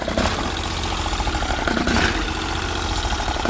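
A Briggs & Stratton 20 HP V-twin engine on a Bolens 1600H garden tractor runs steadily at idle, a close, loud, continuous low rumble with a slight uneven knock.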